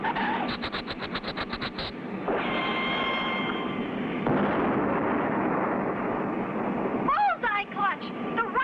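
A cartoon rocket explodes on a flare: rapid staccato pulses give way to a long roaring blast with a rumbling tail, then whistling squeals, loud and dramatic.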